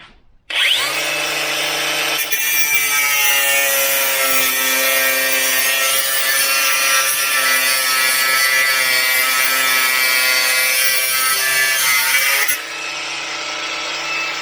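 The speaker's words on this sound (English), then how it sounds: "Now I've got to cut this without damaging the axle." A saw cuts steadily through metal right beside a car's rear axle during a rear axle bearing replacement, a loud continuous grinding rasp that runs for about twelve seconds, then stops abruptly.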